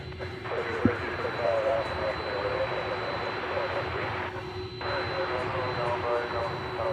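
A DHL Boeing 767-300ER operated by ABX Air rumbles at night near a busy airport, a steady broadband engine roar holding at moderate distance with a faint high whine and a brief click.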